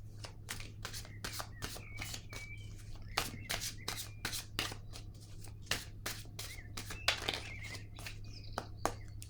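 Tarot cards are shuffled by hand in a quiet room, a rapid series of soft, crisp riffling snaps coming close and irregular over a faint low background hum.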